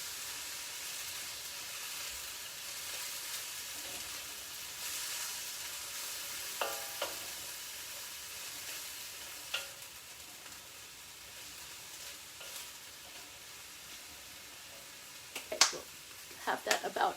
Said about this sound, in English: And stir that around some for about 2 minutes